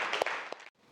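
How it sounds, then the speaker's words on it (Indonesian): Classroom applause for a student group, a short burst of clapping from many hands that cuts off abruptly into near silence. "Tepuk tangan untuk kelompok 1."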